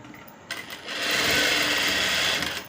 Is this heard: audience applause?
no